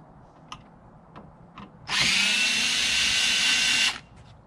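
A large DeWalt power drill whirs steadily for about two seconds while taking apart a Lenovo ThinkCentre desktop computer, loud and close, after a few faint clicks and handling taps.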